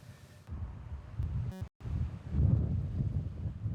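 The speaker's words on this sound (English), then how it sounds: "the wind gusting up just as you guys were tossing to me" Gusting wind outdoors in Porter Ranch at sundown, low rumbling buffeting against the microphone that swells and fades, with a brief dropout midway and a stronger gust toward the end.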